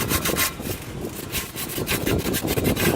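Sandpaper, 100 grit, is rubbed by hand over a rusty muffler flange from a 2002 Avante XD. The rasping comes in quick, uneven back-and-forth strokes, close and continuous.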